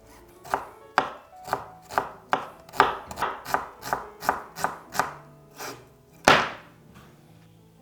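Knife chopping an onion on a cutting board: a run of about a dozen crisp, evenly spaced chops up close, then a pause and one heavier final cut.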